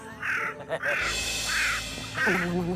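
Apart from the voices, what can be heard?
crow cawing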